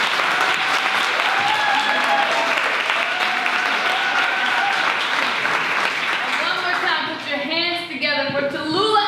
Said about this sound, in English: I need you to give these ladies another round of applause.